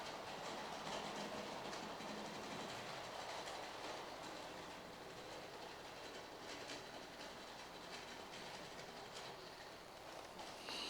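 A model railway train runs along its track in a faint, continuous rumble with a light clicking of wheels over the rails, steady and close, with no talking.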